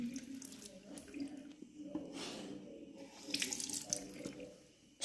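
Water runs from a tap into a sink, a soft, fairly quiet steady splashing stream with gentle fluctuations and a brief louder gush near the end, no voices heard.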